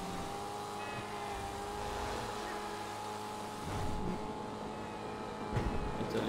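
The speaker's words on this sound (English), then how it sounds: "This car is loud and it's raining" A Maibatsu Penumbra, a Mitsubishi Eclipse-style car in GTA 5 Online, hums with a steady engine drone under rain, faint and even, with small swells near the end.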